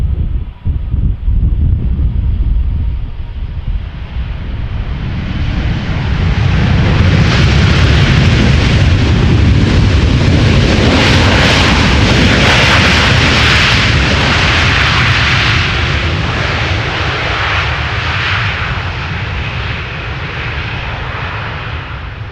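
American Airlines flight 204 from Philadelphia arrives at Amsterdam Schiphol as a loud, sustained jet engine roar that swells and stays broad and rumbling with wind buffeting across the microphone, no voices.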